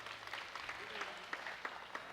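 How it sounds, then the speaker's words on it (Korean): Faint applause rustles in the background while a voice speaks over it in Korean, on a 1983 live television broadcast reuniting separated families. "여러분들 박수 좀 보내주십시오"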